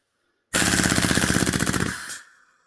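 A KWA KZ61 Skorpion gas airsoft gun fires a single full-auto burst of about a second and a half, a rapid, loud, evenly spaced clatter of shots that stops abruptly and trails into a brief gas hiss.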